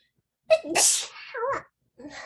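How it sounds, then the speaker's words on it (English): A person sneezes once, close and loud, with a short intake of breath before a sharp burst, then a breathy trailing sound. "I just told you I'm gonna sneeze and I sneeze"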